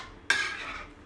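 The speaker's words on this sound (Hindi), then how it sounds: "अब ये सब डालने के बाद हम इसे अच्छी तरह से मिक्स करेंगे" Pav bhaji mixture with garam masala, amchur and dried fenugreek being mixed in a pan, a single sharp scrape of a spoon followed by a soft fading sizzle, close and brief.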